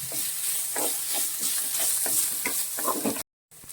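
Ginger curry ingredients with fennel and coriander sautéing in a hot pan, a steady sizzle broken by several scraping stirs, close and clear before cutting out briefly near the end.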